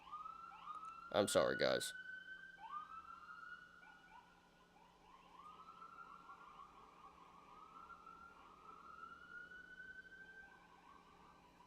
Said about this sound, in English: damn sirens, this is pissing me off so much today